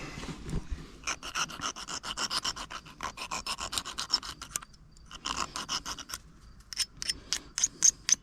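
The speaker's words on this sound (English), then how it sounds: "gonna scuff that up real quick." A part on a Minneapolis Moline GTB tractor is scuffed by hand with quick, raspy back-and-forth scraping strokes in short bursts broken by brief pauses, close and moderately loud.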